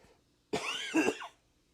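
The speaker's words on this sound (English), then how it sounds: "I still have a cough." A single short cough from a person recovering from COVID, a raspy, throaty burst in two quick pulses, close and fairly quiet against near silence.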